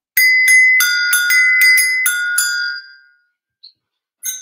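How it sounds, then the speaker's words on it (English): An agogo bell is played, nine or so bright metallic strikes in a quick uneven rhythm with ringing overtones that decay after about three seconds, then one faint tap and a final louder hit, with no talking. "This is an agogo bell."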